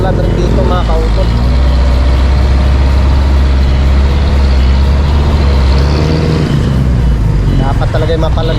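A tricycle engine runs steadily through a long ride, a loud continuous low rumble with passing road noise throughout.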